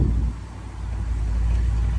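A 1973 Pontiac Grandville drives along with a steady, loud, low engine rumble and road noise close by.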